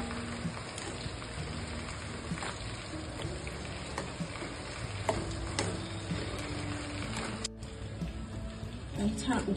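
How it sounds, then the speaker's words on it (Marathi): Sweet-sour lemon pickle syrup with roasted cumin powder bubbling in a pan, a continuous soft sizzling simmer with occasional pops and stirring scrapes, close and steady. "आणि छान उकळू द्यायचं"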